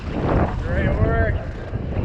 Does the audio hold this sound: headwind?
yes